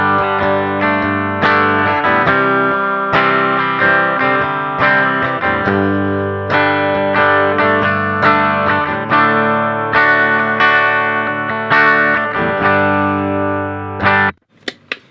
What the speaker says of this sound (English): So this is the bridge pickup.